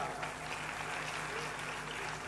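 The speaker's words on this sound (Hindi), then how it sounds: "ताली बजाओ साहब।" An audience breaks into applause, a dense, even clapping that holds steady for a couple of seconds with no other sounds clearly separate.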